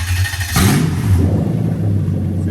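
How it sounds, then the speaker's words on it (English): A Toyota UZ-FE VVT-i V8 in an IS200 with a manual gearbox turns over on the starter and catches. It settles into a loud, steady close-up engine rumble that runs without pause. "as I turn the key, the engine's going to crank over"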